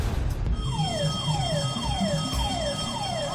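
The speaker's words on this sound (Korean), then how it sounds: "저 화재 경보가 잠입한 요원이 보내는 신호라는 거지." A fire alarm wails through a tense Korean heist drama scene, its repeating downward-sweeping tone cycling steadily over a low rumbling background, loud and without speech.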